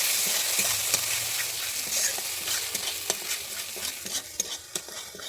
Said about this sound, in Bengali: আমি এখানে দইটা দিয়ে আরও আমি ভালোভাবে কষিয়ে নেব